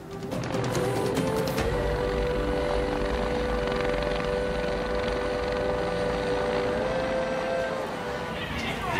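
A CareFlight rescue helicopter's steady rotor and engine roar fills the scene continuously, loud and close throughout, with no voices audible.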